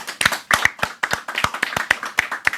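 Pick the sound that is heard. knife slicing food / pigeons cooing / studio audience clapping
studio audience clapping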